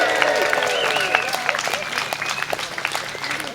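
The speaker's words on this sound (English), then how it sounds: "Let's get a round of applause for Dr. Bob Gill" An audience at an anniversary celebration event applauds a speaker, steady dense clapping with a few cheers and crowd voices mixed in.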